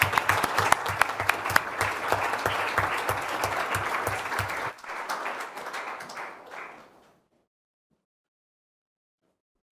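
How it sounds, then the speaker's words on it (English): Audience applause after a speech at a university master's program inauguration, with crisp individual claps up front that thin out, fade, and give way to silence for the last few seconds. "Please give to him an applause."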